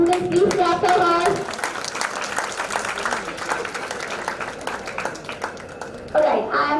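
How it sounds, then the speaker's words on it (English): Students at an institute award ceremony clap for a gold medal recipient. The applause is dense and ongoing at moderate volume, with voices and chatter mixed in and a brief louder burst near the end. "Students, please clap for her."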